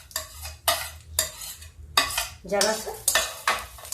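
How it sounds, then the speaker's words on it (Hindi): Almonds, raisins, cashews and makhana fried in ghee over a low flame, with a spoon repeatedly stirring and scraping the pan in rhythmic bursts over a soft, steady sizzle. Someone speaks a few words briefly. "ये बादाम, किशमिश, काजू, मखाना, इसको मैं फ्राई करती हूँ"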